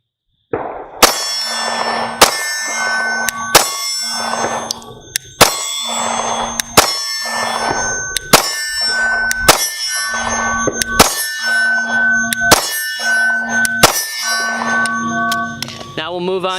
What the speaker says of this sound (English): So we'll start now shooting the Sig p365 and let you see how it does.